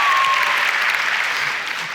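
A large audience claps steadily and loudly in a hall for about two seconds, a dense, even wash of applause with no gaps.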